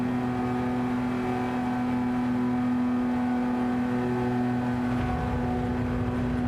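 Porsche race car engine in Gran Turismo 7 holding a loud, steady high-pitched drone at sustained revs, with a brief surge of roar near the end, no voices present.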